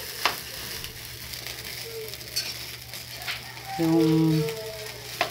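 Fried rice with hot dog and egg sizzles quietly in a pan, with occasional scrapes and clicks of stirring and a brief tonal beep near the end, a few faint words spoken.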